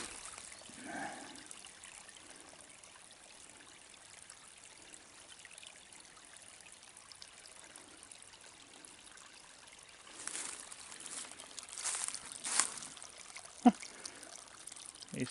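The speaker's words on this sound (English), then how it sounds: "Nice little creek running down the hillside here." A small creek runs down a forest hillside, its faint steady trickle and babble heard from a short distance, with a few rustling and knocking sounds near the end.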